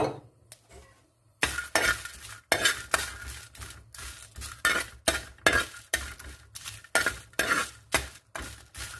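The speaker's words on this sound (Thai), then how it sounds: "คั่วพริกต่อ" Dry chilies being roasted and stirred in a pan for Isan-style beef curry (kaeng om), with a rapid run of close, sharp scraping and clinking strokes that repeat about once a second after a short quiet start.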